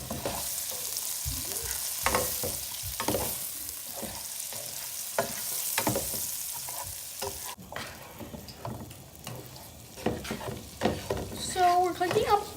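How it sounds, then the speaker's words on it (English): Onions and garlic fry in oil with repeated scraping stirs over a constant sizzle, and near the end the frying quiets as a voice speaks. "So we're cooking up the onions, the garlic, into the oil"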